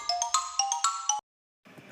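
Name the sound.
xylophone notes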